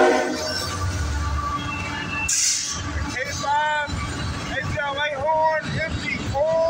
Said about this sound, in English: We have an empty coal train here.